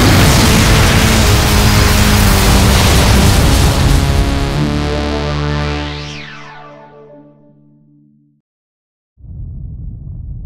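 A heavy bomb explosion at a base booms loudly, its roar swelling then sweeping downward and fading into a long decaying tail, followed by near silence and a low rumble returning at the end.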